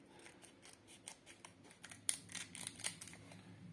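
Scissors snip open a Pokémon card booster pack, a run of small close crisp cuts that grow louder toward the end, with foil wrapper crinkling between snips.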